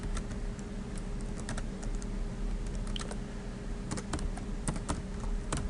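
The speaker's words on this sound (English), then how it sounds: "You can type text up here." Typing on a computer keyboard comes through as quiet, irregular clusters of key clicks over a faint steady background hum, with no talk.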